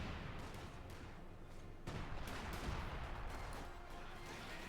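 Priest self-propelled artillery in Company of Heroes 2 firing amid battle, a steady din of dense gunfire and booming reports with several sharp bursts, loud and continuous without talk.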